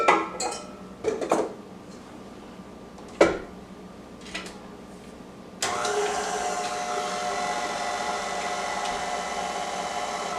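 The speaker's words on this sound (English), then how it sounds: "So now we're going to put the bowl under the KitchenAid mixer and mix it on medium for about 3 minutes" Clinks and knocks as the bowl is set in a KitchenAid stand mixer for cinnamon roll dough, then the motor starts on medium and holds a steady, continuous whir to the end.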